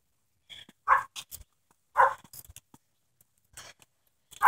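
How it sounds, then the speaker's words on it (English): Dogs bark in short bursts outdoors in snow: two louder barks stand out early, with fainter yips and barks scattered between them, some nearer and some farther away. "There's a lot of dogs around this."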